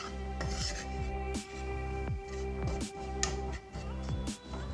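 Raw milk being stirred into white sauce for pasta in a pan, with a spoon scraping and rubbing against the pan bottom in repeated close strokes at a steady rhythm.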